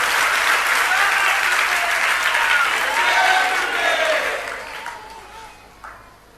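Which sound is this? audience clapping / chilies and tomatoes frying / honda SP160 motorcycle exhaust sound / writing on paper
audience clapping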